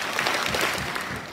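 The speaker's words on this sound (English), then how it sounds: "Give them three claps." An audience at a Black History Month program claps together in a brief, dense burst of applause, close and steady rather than three separate claps.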